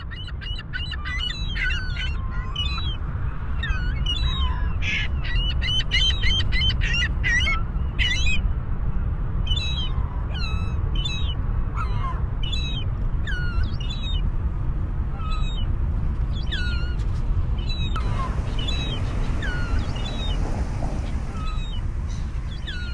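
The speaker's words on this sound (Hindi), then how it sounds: "सीगल्स एक बहुत ही प्यारा परिंदा है और मैंने देखती हूँ कि हार्बर के ऊपर चिड़ियों का एक छोटा सा ग्रुप उड़ता है।" Seagulls call again and again over a harbour, sharp squawks and mews near and far, laid over a steady, broad background roar like wind or water.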